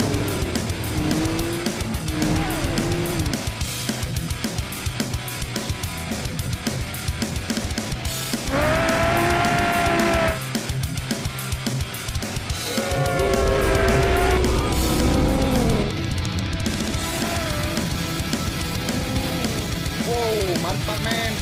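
Video game chase in which cars race and tires squeal, including a Lamborghini, with engines roaring continuously, repeated screeching skids and occasional speech over the action.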